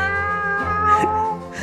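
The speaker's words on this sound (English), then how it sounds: "I love how your cat reacted to you meowing." A cat meows in a drawn-out, wavering call at close range, with a tonal music bed running underneath.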